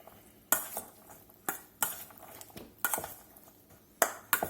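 A utensil clinks and scrapes against a bowl while lime juice and olive oil are stirred together for carne asada street tacos, giving sharp, irregular taps about once a second, close and fairly quiet.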